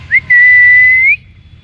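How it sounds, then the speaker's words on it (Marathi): A person whistles to call street dogs to feeding, a quick short chirp followed by one sustained, slightly rising whistle, loud and close over faint background noise. "शिट्टी वाजवली की एवढे जोरात पळत येतात ना"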